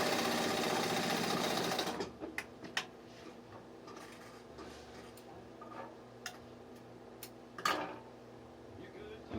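Singer 31-15 industrial sewing machine with a roller foot running through thick material using heavy thread, a loud steady whirring stitch for two seconds, then quieter intermittent ticks and clicks as it stops.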